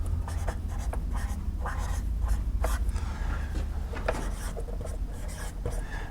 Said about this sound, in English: I'm going to write this down